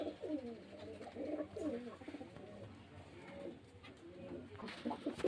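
Pigeons, including a pair of Kalsera pigeons, coo at a home pigeon sale in Beldanga, with repeated soft throaty cooing phrases close by and a brief rustle near the end.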